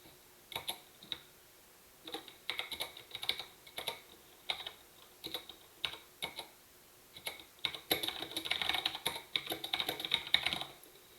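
Steady typing on a computer keyboard during a computer science class, quick irregular bursts of clicky keystrokes with short pauses, growing denser toward the end, close and quiet with no talk.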